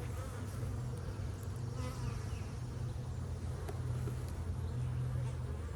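Honeybees buzz continuously during an apiary hive inspection, a dense, steady drone from many insects close by, with occasional individual bees passing and no talking.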